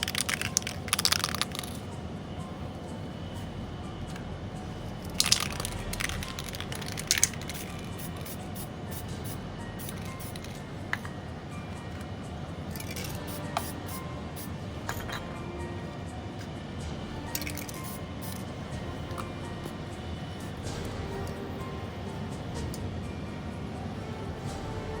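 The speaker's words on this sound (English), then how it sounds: "And I'm going to use a bright silver spray on this one." Bright silver chrome spray paint hisses steadily from a can onto a miniature inside a spray booth, a continuous broadband spray lasting about 25 seconds with a few sharper bursts early on.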